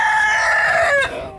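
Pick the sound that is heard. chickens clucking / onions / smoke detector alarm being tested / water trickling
chickens clucking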